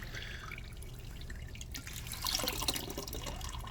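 Water trickles and drips steadily into a rock tumbler barrel being filled with agates, jasper and petrified wood, a soft continuous splashing that grows slightly louder midway, with no voices.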